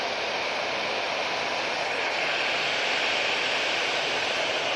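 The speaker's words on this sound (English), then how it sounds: "Next arrival. Oh, it is another Aer Lingus." An Aer Lingus airliner arrives at Manchester Airport, heard as a steady, even wash of broadband engine roar at moderate distance, unchanging throughout with no voices.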